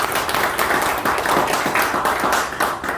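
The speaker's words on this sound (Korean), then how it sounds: "다시 한번 박수 부탁드리겠습니다." An audience at a Korean public talk gives sustained applause, dense rhythmic clapping from many hands filling the room at fairly high volume with no voices over it.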